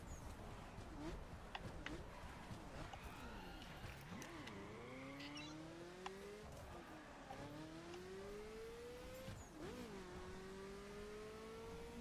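A Ferrari F40 in The Crew Unlimited revs and shifts through the gears, its engine pitch repeatedly climbing and dropping under steady road noise, with a faint high whine throughout.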